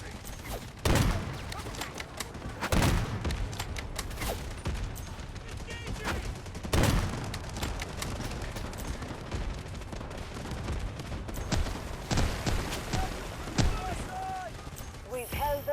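Artillery barrage in the video game Delta Force Mobile, trench-line night mode: dense, continuous rumbling gunfire and booming shell impacts, with repeated heavy blasts punching through a constant roar of battle.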